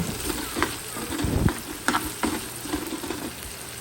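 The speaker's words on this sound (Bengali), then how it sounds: "ততক্ষণ পর্যন্ত নাড়াচাড়া করব যতক্ষণ পর্যন্ত পেঁয়াজ এবং রসুন কুচিগুলো একটু ভাজা ভাজা হয়ে আসবে" Chopped onion and garlic sizzle steadily in hot oil while a spatula stirs them, with scraping strokes against the pan rising over the constant frying hiss, close and moderately loud, without talk.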